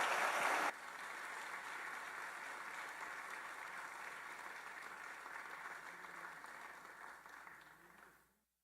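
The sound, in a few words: congregation applause welcoming a pastor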